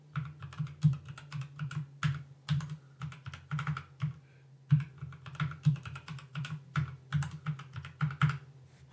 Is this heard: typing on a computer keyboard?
yes